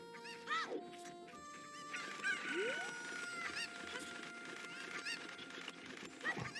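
Chickens cluck and squawk in the Ocarina of Time randomizer, a run of short game-sound cackles and calls over quiet background tones, faint and unaccompanied by talk.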